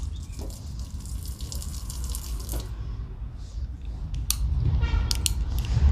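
Water sprays steadily from an adjustable shower head in a Maruti Suzuki Eeco campervan, close and continuous, with a few clicks and rattles as the setting changes and the spray grows louder.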